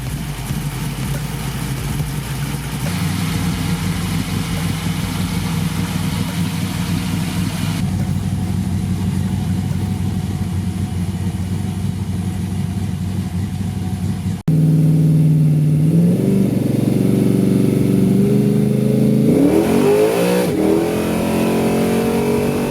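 A V8-swapped Chevy S10 truck engine runs steadily at a loud, close idle as it warms up, then revs up and down in several rising surges near the end.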